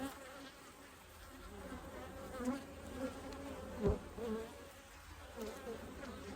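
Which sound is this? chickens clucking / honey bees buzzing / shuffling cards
honey bees buzzing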